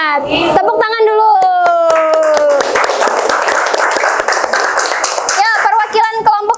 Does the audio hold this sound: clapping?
yes